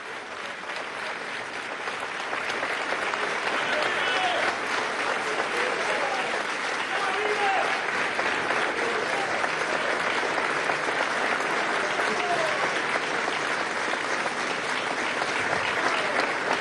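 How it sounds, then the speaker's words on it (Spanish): Sustained, dense applause fills a National Constituent Assembly session, a steady wash of many hands clapping that swells after the first two seconds and holds loud and even throughout. "Un aplauso a nuestro comandante Hugo Chávez Frías"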